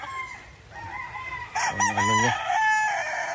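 A rooster crows loudly and close by, with other chickens clucking around it and a brief voice near the start.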